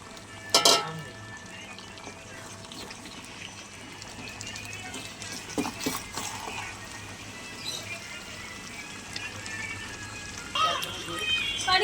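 Mutton fries with a paste of ground cashew and poppy seeds, giving a low continuous sizzle with scattered scrapes and clinks of a spoon against the pot, fairly faint and close, without speech.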